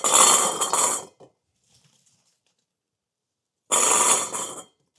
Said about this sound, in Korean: 제가 이렇게 마늘을 이제 담고 있잖아요